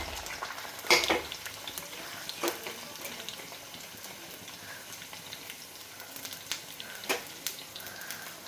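Shallots and slit green chilies fry in oil for a Kerala-style pepper fish curry, a soft steady sizzle with occasional sharper crackles and clinks of stirring, heard alone at moderate level.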